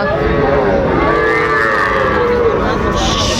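Young bull calf at a cattle market at Aftabganj haat: a loud, drawn-out moo with a strong, nasal tone that carries through the whole stretch, very close and dominant over the market background.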